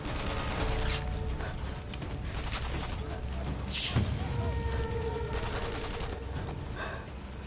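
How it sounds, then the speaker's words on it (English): Enemy gunfire in the Sniper Elite 3 video game cracks in scattered shots and short volleys at middle distance, mixed with game ambience and mechanical clatter. "They're still shooting at me and I'm not even over there."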